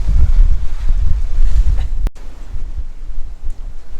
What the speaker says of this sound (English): Sailing through some squalls. This one up ahead's gonna get us.